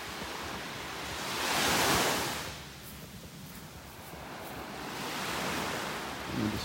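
Ocean waves on a beach in North Naples, Florida, rolling surf that swells and recedes in two broad surges, close and fairly loud with wind noise, no talking.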